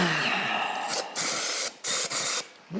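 A spray can of cleaner hisses in several close bursts, a long spray followed by three shorter ones, while a John Deere 710 is being dismantled.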